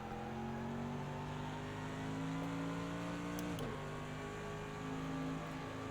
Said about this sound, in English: it sounded like a different engine. I believe it's the turbo instead.